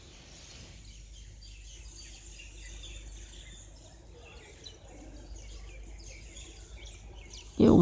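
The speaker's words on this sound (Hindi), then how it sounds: "बहुत ही अच्छा चिड़ियों की चहचहाट के साथ खूबसूरत सीन सुबह सुबह का" Faint morning birdsong, scattered chirps and tweets outside a railway station in Udhampur, soft and distant over a low steady background hum; a sharp louder knock lands right at the end.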